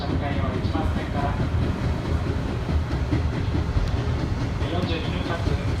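A Tobu Tojo Line train pulls into a station platform during a torrential downpour, its steady rumble and rail noise blended with heavy rain, while a voice like a platform announcement carries over the din.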